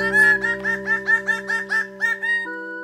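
A loud, nasal, trumpeting indri lemur song from Madagascar forest, rising and falling in rapid pulses, about a dozen wavering notes before settling into a steady held tone.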